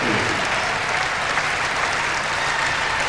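Sustained applause from a basketball crowd honoring a departing player on the bench during his final home game in 1993, steady and dense throughout with no pauses.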